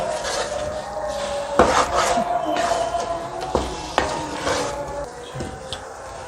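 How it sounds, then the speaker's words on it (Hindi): A spoon scrapes and knocks against a pan while thick homemade chyawanprash with desi ghee is stirred, producing repeated rubbing strokes punctuated by several sharp metallic taps, fairly close and moderately loud. "इसको अच्छे तरीके से हम लोग मिक्स कर लेंगे।"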